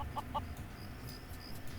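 In the video game Craft The World, a couple of quick chicken clucks pop out at the start. After them only a low steady game ambience continues, faint and without speech.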